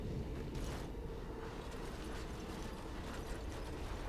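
A locked door mechanism in the Dragon Age: Origins video game rattles and creaks with a steady, dense ratcheting clatter that runs for about four seconds at an even level, with no voices.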